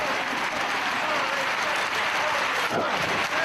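Crowd applause fills a Chicago wrestling arena mid-match, continuous and fairly loud, with commentary talk faintly underneath.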